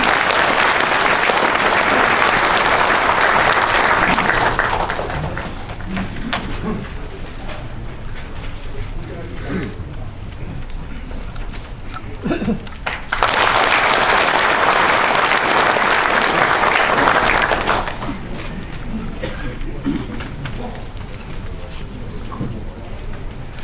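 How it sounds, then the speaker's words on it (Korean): An audience at a lecture event breaks into loud sustained clapping to welcome a speaker, fading to a murmur before a second strong burst of applause, with some talk in between. "여러분 큰 박수 부탁드리겠습니다"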